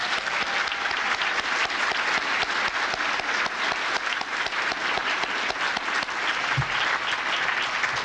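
A retirement gathering audience gives Barbara a sustained round of applause, with dense, steady clapping from many hands holding at an even loudness across the whole span and no break.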